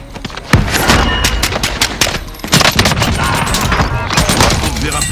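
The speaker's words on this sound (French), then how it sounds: "On tire dessus." Rapid bursts of automatic gunfire in Call of Duty: Warzone, loud and dense with sharp repeated shots and a few heavier thuds throughout, mixed with in-game sound effects.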